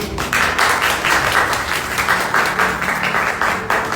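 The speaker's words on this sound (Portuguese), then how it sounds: "Aplauda Jesus mais uma vez." A church congregation applauding during a service, a full, continuous wash of clapping with a slightly pulsing rhythm, fairly loud and close.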